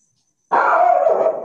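A dog barks at home in one loud, close, drawn-out bark that follows a moment of silence.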